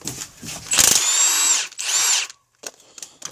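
A handheld power drill whirs in two loud bursts of about half a second and one second while a generator is being taken apart, with clicks and clatter of the tool and parts in between.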